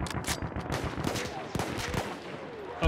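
Rapid gunfire in a tank battle video game, fast overlapping bursts of shots with heavy low thuds, loud and close, and a voice talking over it.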